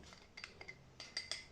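Quiet clinks of a metal spoon against a bowl while mixing cake ingredients, a few light scraping taps in quick succession, close and soft.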